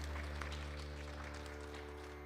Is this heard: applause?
yes